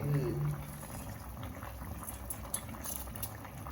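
Rice for biryani boils in a pot, a close, steady bubbling and simmering that continues throughout with no one speaking.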